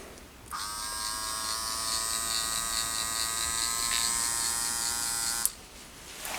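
A homemade 12V DC electronic worm drive compound angle finishing tool runs steadily for about five seconds, a close, even electric whine with a buzzy motor tone, starting and stopping abruptly.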